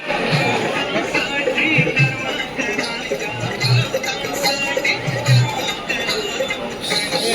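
Dense crowd chatter fills a packed street during Pune's Ganeshotsav festival near temples and mandals, a steady close murmur of many overlapping voices with occasional louder shouts and low thumps throughout.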